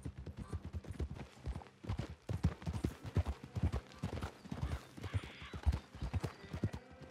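Horse hooves clip-clop rapidly and steadily as a horse is ridden in Red Dead Redemption 2, a close, continuous galloping rhythm with some ambient game sound.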